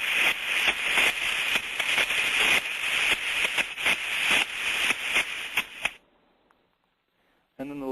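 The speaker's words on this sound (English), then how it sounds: "If we have a trap that is motor boating or machine gunning, it's going to sound like this." A faulty steam trap cycles rapidly, giving a loud hissing stream broken by quick, regular clicking pulses like machine-gun fire, then cutting to near silence before hissing resumes.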